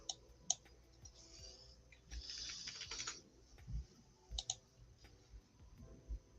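Someone types steadily on a computer keyboard, with quiet irregular clicking throughout, a few sharper taps and one short burst of faster keystrokes, close by in an otherwise quiet room with no talking.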